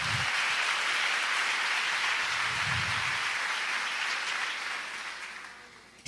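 A church congregation claps together in a soft, continuous wash of applause, sustained and fairly distant, thinning toward the end before a sudden sharp sound cuts in.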